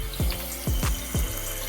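A repaired toilet tank refills with water, its steady flow overlaid by four loud gurgling sweeps that fall in pitch, closely spaced and near, with no talking.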